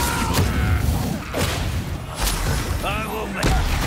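Incendio fire spell cast in Hogwarts Legacy: several whooshing bursts and thudding blasts, close and loud, repeating over a few seconds with game effects layered around them.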